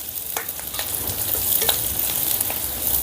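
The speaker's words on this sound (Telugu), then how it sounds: "ఇప్పుడు ఈ ఉల్లిపాయల్ని మంచి బంగారు వర్ణం వచ్చేంత వరకు వేపుకుందాం." Thinly sliced medium onion frying in hot oil, a steady loud crackling sizzle with soft stirring scrapes throughout, close and alone without speech.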